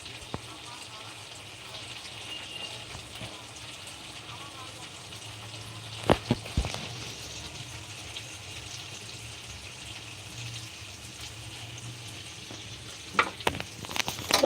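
Food sizzles while cooking, giving a steady frying hiss with a couple of sharp clinks and clatters from the pan.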